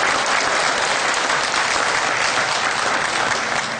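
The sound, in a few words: audience applause for a class of calves at a cattle show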